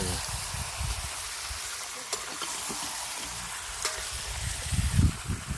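Chicken sizzles in oil in a pot while being stirred, a constant close frying hiss with low rumbling thumps from the pot and a few sharp clicks, and no voices.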